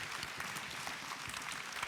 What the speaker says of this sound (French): On peut l'applaudir très fort, notre grand témoin du soir, Myriam